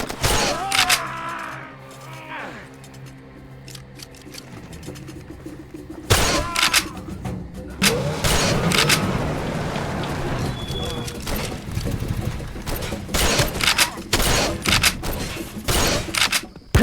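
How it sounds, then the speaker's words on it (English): Silenced shotgun fired in the video game Far Cry 2: several sharp, muffled reports with sudden onsets, spaced irregularly amid game ambience, with a voice talking at times. "The look and sound of Anton Chigurh's silenced shotgun was so prominent that it inspired many imitations in video games. For example, Far Cry 2"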